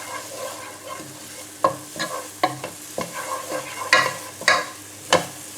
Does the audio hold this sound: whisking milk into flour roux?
yes